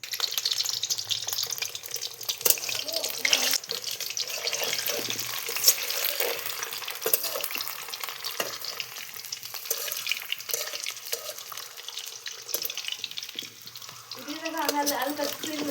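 Eggs fry in oil in a pan for a village-style egg curry, a continuous crackling sizzle with occasional scrapes and spatters, while a voice talks now and then over the cooking.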